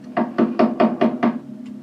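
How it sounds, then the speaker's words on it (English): A knock at a hotel room door in a horror story: six evenly spaced, firm raps in a quick steady rhythm, close and fairly loud, with no talking over them. "Then it happened again, a knock at the door."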